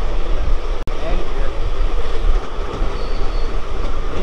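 Passenger train rolling into Dhulian Ganga station in Murshidabad, a steady close rumble of wheels and carriages with a brief sharp click near the start, continuous and loud throughout.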